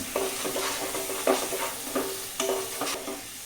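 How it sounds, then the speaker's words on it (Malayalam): Okra being sautéed in a pan for an okra and egg thoran, with a steady sizzle and repeated sharp scrapes of stirring, close and moderately loud, without talking. "ഇനി ഇത് നല്ലപോലെ വഴറ്റാനായിട്ട് അനുവദിക്കും"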